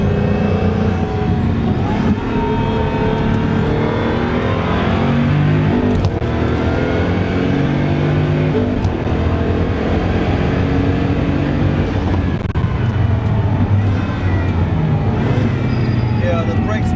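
A Pagani Huayra BC is driven hard on a race track, and its engine roars loud and continuously from inside the cabin, with pitch rising and falling through gear changes, while people talk over the engine noise.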